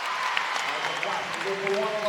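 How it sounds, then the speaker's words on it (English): A home crowd cheers and claps in a gym during an overtime high school basketball game, a steady roar of applause under a commentator's continuous play-by-play. "North Gwinnett crowd comes up"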